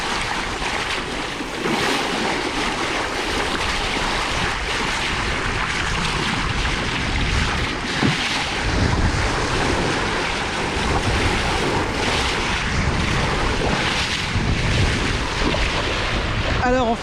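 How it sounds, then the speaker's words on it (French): A sailboat's motor runs at sea off the French Atlantic coast, buried in a steady roar of wind buffeting the microphone and waves washing against the hull, loud and continuous throughout. "on a remis le moteur parce que on se traînait à moins de 3 nœuds"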